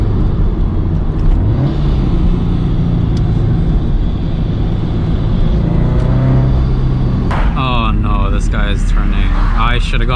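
Supercharged Subaru BRZ with a quiet exhaust pulls steadily under load on a backroad, its engine drone filling the cabin throughout, with a rising rev and gear change near the end while a person talks over it.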